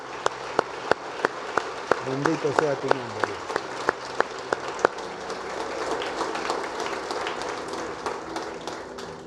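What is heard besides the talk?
church congregation applause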